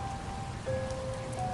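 Steady rain falls in a continuous, even hiss with a faint tonal hum underneath, moderately quiet and uninterrupted, with no voices.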